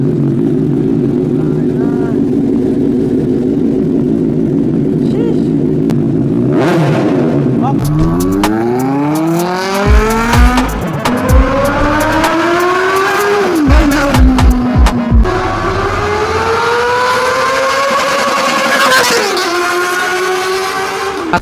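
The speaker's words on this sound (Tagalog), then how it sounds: "kung gaano nga ba kahalimaw ang tunog ng motor na ito" A Kove 450RR sportsbike with a 400cc inline-four engine idles steadily, then revs hard in repeated rising and falling sweeps. The loud, close, high-pitched howl has sharp throttle blips in the middle and a long climbing rev near the end.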